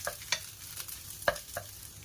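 Fried rice with luncheon meat is stir-fried in a pan, with a soft steady sizzle broken by a few light scrapes and clinks of the spatula, quiet and close.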